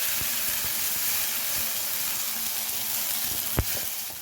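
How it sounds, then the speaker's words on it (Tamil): Steady sizzling hiss of chopped garlic frying in hot oil, close up, with a few soft clicks and pops over the continuous crackle. "அதிலே நம்ம பூண்டு வந்து சின்ன சின்னதாக கட் பண்ணி வச்சுருக்கோம், அது போட்டு வறுத்துடலாம்"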